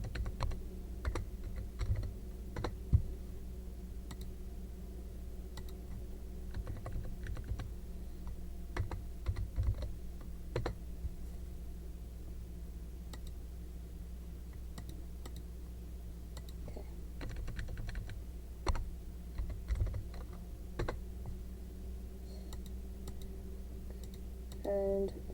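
Soft computer keyboard typing and mouse clicks, scattered light taps and double clicks spread over a long stretch against a steady low hum, with occasional quiet talk.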